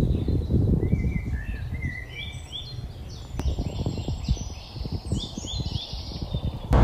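A large crow calling outdoors in Canadian mountain terrain, a series of harsh, rasping calls repeating over several seconds against rustling and wind-like background noise, moderately near.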